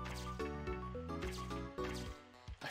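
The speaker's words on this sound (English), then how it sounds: "I forgot you could possess water drops." Water drop dripping in the video game Ghost Trick, a short run of wet plinks and squishy drips set over steady, layered game music that fills the whole stretch.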